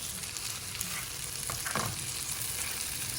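A curry base fries in a pan with a steady, quiet sizzle and a brief stir near the middle, with no talk.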